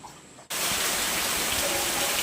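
After a brief quiet moment, a dense, steady hiss of rain starts abruptly and continues evenly, loud and close.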